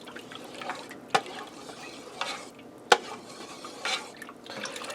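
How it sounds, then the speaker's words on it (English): A big spoon stirs beef broth for noodle soup in a pressure cooker pot, with soft liquid swishes and a few sharp knocks of the spoon against the pot, close and moderately quiet. "Let me give this a stir."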